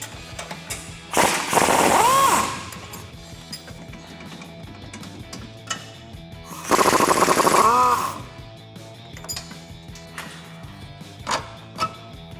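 A 21mm socket wrench, likely powered, removes bolts at the bottom of the struts on a truck axle in two loud, rapid rattling bursts about a second long each, with quieter clanks of tools and metal between them.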